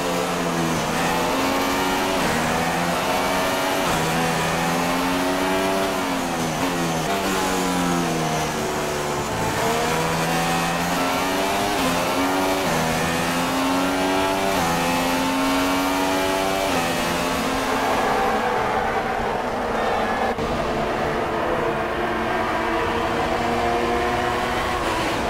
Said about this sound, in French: On va profiter un petit peu du son de cette McLaren.